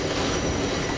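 A train passes close by with its wheels squealing sharply against the rails over a continuous rumbling clatter, loud and sustained throughout.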